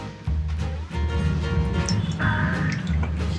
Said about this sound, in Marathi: तर पहिले तर आपण आधी कढईत तेल टाकूया.